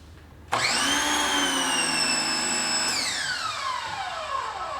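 A Westinghouse EPX3050 2050 psi electric pressure washer with a 0-degree nozzle starts abruptly and runs as a loud, steady, high-pitched whine, then winds down in pitch near the end.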